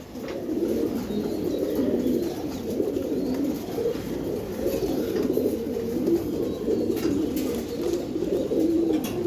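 Giribaj pigeons coo continuously, a low warbling murmur from several birds close by, with soft overlapping calls and no talking.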